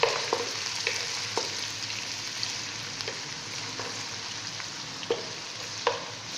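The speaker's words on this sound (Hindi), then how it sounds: "अदरक लहसुन के पेस्ट को अच्छी तरह भून लेना है।" Ginger garlic paste fries for chicken karahi, giving a continuous moderate sizzle broken by regular sharp clicks of a spoon stirring against the pan about once a second.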